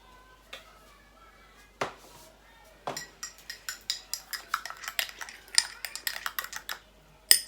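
A spoon stirring psyllium into a glass of water: a few isolated clinks, then a quickening run of rapid metallic taps against the glass, close and crisp.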